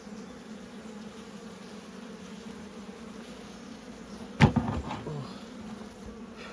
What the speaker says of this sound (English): They sound like there's a lot of insects on them